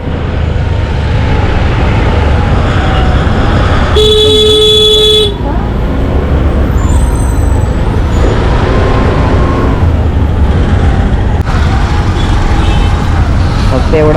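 Busy road traffic hums and rumbles throughout, broken by one loud, sustained car horn blast partway through, with fainter tones and engine noise in the background.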